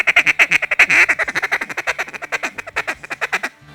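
A hand-blown duck call gives a fast feed call imitating feeding ducks: a long, steady run of rapid, clipped quacking pulses that stutter and vary slightly in pace. The call is loud and close and plays alone.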